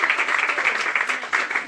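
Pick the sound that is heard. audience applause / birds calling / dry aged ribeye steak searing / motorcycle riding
audience applause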